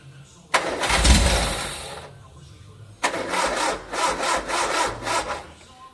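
A Sunbeam Rapier car engine cranks and sputters into a rough start, falls back, then cranks again with rapid, uneven chugging bursts, loud and close.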